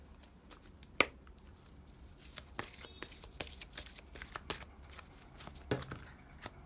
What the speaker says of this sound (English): it takes a bit of time to shuffle until the card pops out